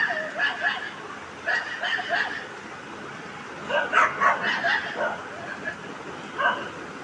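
Dogs bark in short bursts with snarls and yips, rising into a scuffling tangle in the middle, moderately near and mixed with fainter background noise.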